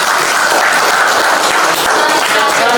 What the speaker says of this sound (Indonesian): Terima tepuk tangan untuk